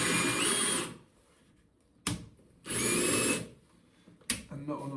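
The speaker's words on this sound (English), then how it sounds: "Make sure the drill's not on hammer." An electric drill, not on hammer mode, runs in two loud bursts drilling tile for a shower mixer tap, separated by quiet pauses, with short clunks and handling noises between, close up.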